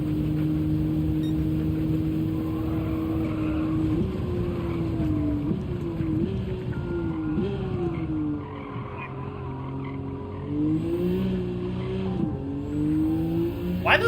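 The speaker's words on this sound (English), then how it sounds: "Why does the engine sound so muted?" A race car engine in Gran Turismo 7 revs and shifts through gears with repeated pitch jumps and squealing tires, loud and continuous, with no speech over it.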